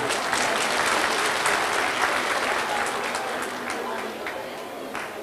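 An audience at a Turkish community dinner, a goose tirit night, breaks into loud, sustained applause and cheering that fills the hall, then slowly tapers off a little.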